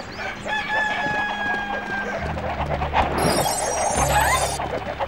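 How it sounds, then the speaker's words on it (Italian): Chickens clucking and a rooster crowing in a farm field level of the Shrek 2 video game for PS2, loud busy bird calls mixed with game effects and a bright burst of sound near the end. "quei pollastri stanno divorando l'intero raccolto"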